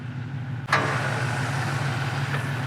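A 1970 Ford Mustang Fastback with a 302 V8 starts with a short burst, then idles steadily with a deep, loud exhaust rumble, close and continuous, no talk.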